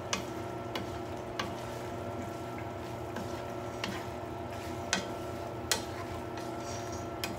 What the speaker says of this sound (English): And now we're stirring in our pasta.